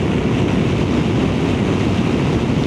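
Loud, steady roar of wind buffeting a microphone while riding a scooter, constant and unbroken.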